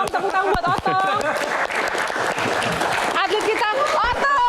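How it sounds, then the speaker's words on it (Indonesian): An audience claps and cheers while an excited voice talks loudly over the applause. "Tepuk tangan buat Otong."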